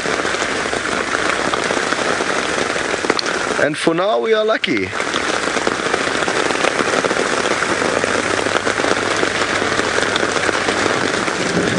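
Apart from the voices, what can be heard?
rain dripping off a plastic cover on a safari vehicle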